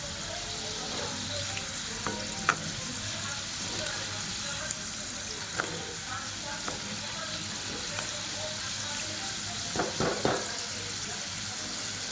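Mini samosas fry in a pan of hot oil, giving a continuous close sizzle with scattered pops and crackles throughout.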